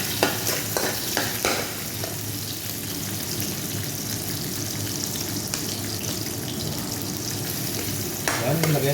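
Chopped onion sautés in a pan with a steady, close sizzle, while a utensil stirs and scrapes now and then through the frying. No one speaks.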